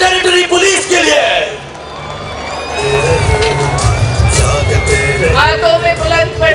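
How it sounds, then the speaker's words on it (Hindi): A large crowd of citizens cheers, whoops and applauds for the Islamabad Capital Territory Police at an Independence Day parade, with loud shouting and babble swelling again after a brief dip. "भरपूर तालियां इस्लामाबाद कैपिटल टेरिटरी पुलिस के लिए।"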